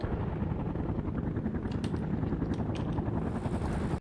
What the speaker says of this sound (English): Mi-24 on the way.